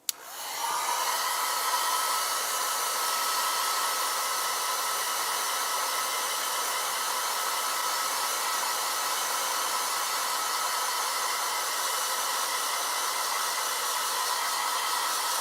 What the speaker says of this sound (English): we got our trusty miniature hair dryer